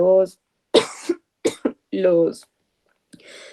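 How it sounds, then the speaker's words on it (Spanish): A few harsh coughs and throat-clearing sounds break up a woman's speech, close to the microphone, followed by a breathy exhale. "esta tos no me deja"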